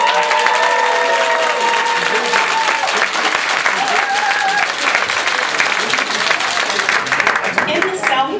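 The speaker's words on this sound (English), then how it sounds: "Round of applause." Steady, loud applause from an audience at a District 30 Toastmasters South Division International Speech Contest, continuous broadband clapping with some cheering and talk mixed in, running the full length.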